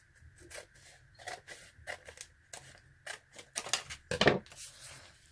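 Scissors snip paper for a junk journal in a quiet room, a series of short crisp cuts in irregular rhythm, close and fairly soft, ending in a louder cluster of snips.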